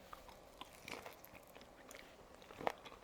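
Someone bites into and chews a crunchy Korean scallion seafood pancake with shrimp and calamari, dipped in soy sauce, giving faint, close crunches with one sharper bite near the end, no talking.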